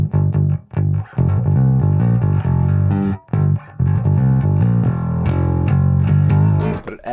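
Electric bass driven through an EBS Billy Sheehan Signature overdrive pedal, thick distorted notes rich in harmonics played loud and close in sustained phrases, broken by a few brief pauses, with no talking.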